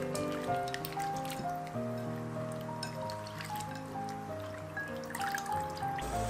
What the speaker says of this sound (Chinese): 同样放在清水里，把表面的淀粉清洗干净